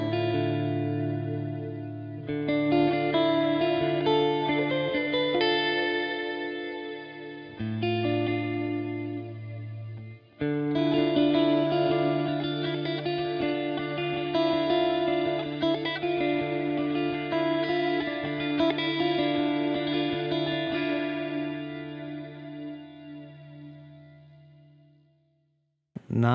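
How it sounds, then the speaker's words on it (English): Sustained electric guitar chords ring out through the swirling, sweeping flanger of a T2 reverb pedal with lush reverb, pausing briefly between strums and fading away at the end. "not a bad flange for a reverb pedal"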